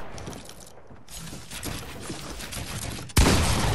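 Gunfire in a video game, a burst of rapid shots and mechanical clatter at moderate level, ending in a sudden loud blast of noise.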